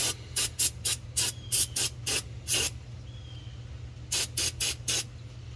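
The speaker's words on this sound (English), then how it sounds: "we're just going to be getting the brake cleaner and cleaning off the plug like this." Short bursts of brake cleaner spray hiss from a can in a quick rhythmic series while cleaning a plug on a 2019 Ford F-150 5.0 Coyote, a pause, then another run of sprays over a low background hum.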